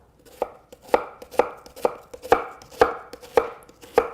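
A knife chops an onion on a cutting board for egg bhurji: about nine crisp, evenly spaced thuds in a steady rhythm, close and clear, with no talk.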